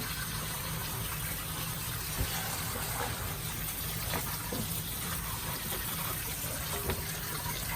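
Beef tripe being rinsed for menudo under steadily running tap water, a continuous close gush with faint splashes and no talking.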